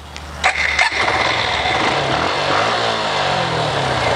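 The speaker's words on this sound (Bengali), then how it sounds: "দেখেন বাইক স্টার্ট হয়েছে" Motorcycle engine started remotely by voice command through a Tasslock Pro keyless lock, giving a couple of brief cranking bursts before catching into a steady, loud idle with no talk over it.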